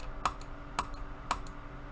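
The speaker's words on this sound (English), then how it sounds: "Sorry for all the clicking" Computer keyboard and mouse clicks during an online card game match, a few sharp, close clicks spaced irregularly over a quiet background hum, with no talking.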